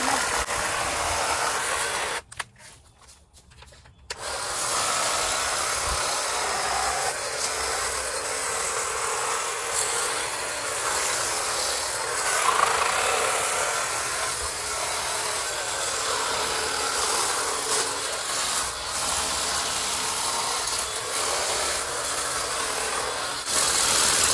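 A STIHL string trimmer cutting back ornamental grasses during a spring garden cleanup, a steady close-up whine that runs almost the whole time, with one short dip in power near the start.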